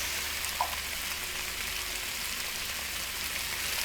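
Steak cooking on a griddle in the game Cooking Simulator, a steady, even sizzle like light rain that holds at the same level throughout, with one small click near the start and no talking.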